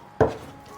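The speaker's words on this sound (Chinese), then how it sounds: "切成小小粒的，再稍微剁一下就好" A single sharp knife chop into slightly fatty beef on a cutting board, one close, crisp thud followed by quiet.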